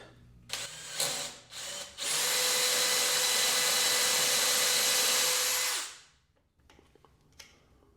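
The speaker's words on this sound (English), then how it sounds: "what I'm doing is just taking this drill bit and hogging out the majority of the material first" A drill bit bores out wood for a dining table: two short bursts of the drill, then a loud, steady whine lasting about four seconds before it spins down into quiet.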